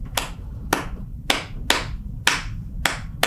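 A single pair of hands claps a capoeira rhythm, seven sharp, close claps in a repeating long-long-short pattern, with no berimbau or singing.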